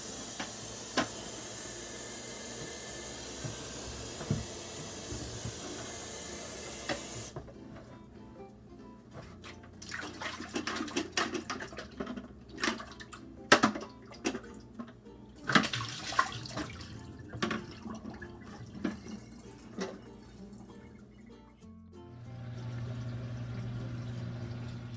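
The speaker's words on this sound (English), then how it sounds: "Now we can start cleaning the canister filter first so that any dust particles" Water runs and splashes while a Penn Plax Cascade 1500 canister filter is rinsed. A steady pour at the start gives way to irregular close splashes and knocks, and a constant flow of water returns at the end.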